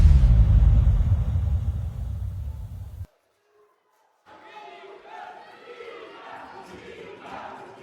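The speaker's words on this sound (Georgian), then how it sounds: "გვესმის მისი ფანბაზის შეძახილი" A fight-event crowd of fans shouts and cheers loudly for about three seconds, then a brief silence follows before quieter crowd murmur and voices resume.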